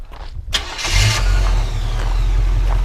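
A 1985 Chevrolet K5 Blazer squarebody cranks briefly and catches, its engine settling into a loud, steady rumbling idle close by with no talk.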